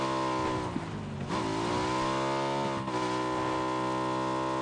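A motorbike engine in PUBG drones loud and steady, with sustained revving and shifts in pitch as it gains speed, and a brief dip near the middle and again near the end.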